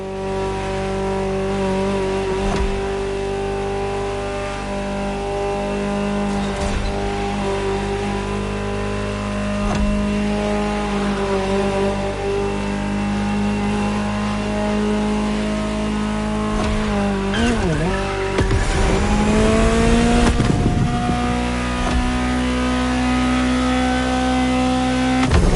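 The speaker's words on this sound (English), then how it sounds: "Just listen to the car you're driving." A Ferrari supercar engine in The Crew Motorfest racing game holds a steady loud drone, then revs sharply near the end before settling into a deeper sustained roar, with no talking.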